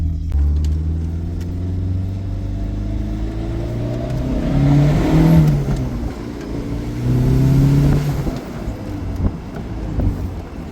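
A Shelby car engine, either a 1991 Daytona or a 1985 Charger, revs loud and near while driving, rising and falling through gear changes in rhythmic surges over steady road noise.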